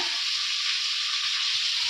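Potatoes and tomato frying in hot oil, a loud, dense, unbroken sizzle filling the short stretch.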